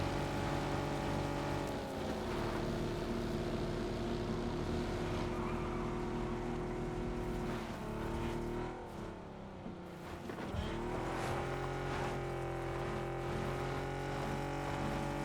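A car's engine drones steadily in a video game, revving up and down with shifting pitch as it drives along, a continuous mid-level motor hum with no talking.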